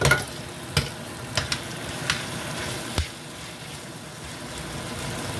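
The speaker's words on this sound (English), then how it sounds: "Just gonna stir this around a little" Jamaican beans being stirred in a frying pot, a steady low sizzle with a few sharp scraping clicks of the spoon against the pot, close and fairly quiet, no voices.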